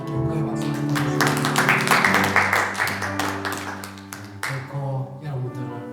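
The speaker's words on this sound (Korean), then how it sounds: "하나님께 영광의 박수 드리겠습니다." A church congregation claps together over sustained music, a burst of rhythmic claps building and thinning over several seconds while the instruments carry on underneath.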